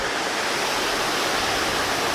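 A dense, roaring wash of falling water in Shiobara, Tochigi, Japan, loud and unbroken, like standing close to a powerful waterfall.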